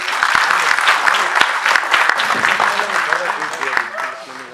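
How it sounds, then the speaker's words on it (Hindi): A mehfil audience in Lucknow claps loudly for a ghazal poet, dense sustained applause with sharp individual claps standing out, tapering toward the end as voices begin under it. "तालियां बजाइएगा और जोर जोर से बजाइएगा"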